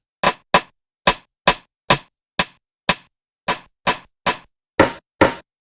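A Linn LM-1 drum machine side stick sample, from the GForce IconDrum plugin, hits in a series of sharp, dry clicks, about a dozen, evenly spaced at first and then in quicker pairs.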